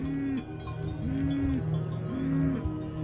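Cattle lowing inside a Maasai village, with cowbells: three long, drawn-out moos follow one another over a steady ringing and rustling background.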